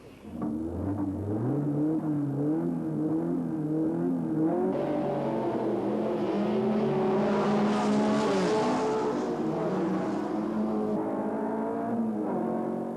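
Engine of a small Alpine race car recorded onboard at the Albi circuit during the Tour Auto, a loud, close, continuous roar that climbs through the revs, shifts gears, and rises again, with no talking.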